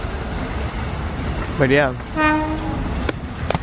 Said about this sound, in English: There's this train which is passing through over here.